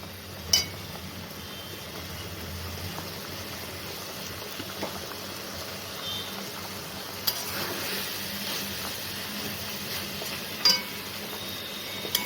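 Small mola fish fry in a pan with eggplant, giving a quiet, steady sizzle broken by a few sharp clinks of utensil on cookware.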